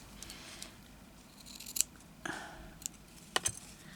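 Sharp scissors snip through dressmaking material in about five quick, crisp cuts spaced irregularly over a quiet background, with no talking.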